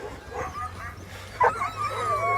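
Sled dogs lined out in deep snow at a race restart yip, whimper and bark excitedly in overlapping bursts at moderate distance, with a steady low engine hum underneath.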